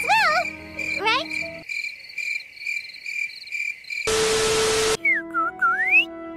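Tuneful whistling in the Genshin Impact video game, with sliding and warbling whistled notes over a sustained tone, broken by a loud burst of noise before the whistles return.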